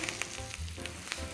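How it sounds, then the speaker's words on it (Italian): Mushrooms with garlic and a sprig of thyme sizzle and fry steadily in a hot pan, a close, continuous crackle with a few brief louder pops and no talking. "Con l'aglio dorato aggiungiamo i nostri funghi, aggiustiamo di sale e aggiungiamo anche un rametto di timo."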